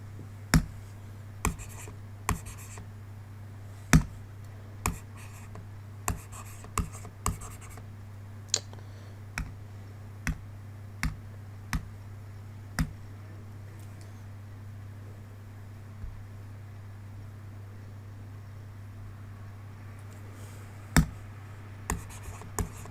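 A math answer is written out by hand, with a series of short, crisp pen strokes and taps spaced irregularly over a low steady hum, close up and without talking.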